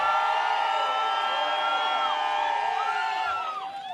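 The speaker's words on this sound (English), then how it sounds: "The audience applauds both producers" A live crowd watching music producers go head to head in a gallery showdown cheers and whoops loudly and steadily. Whistles and shouts overlap in one continuous roar, then it eases slightly at the end.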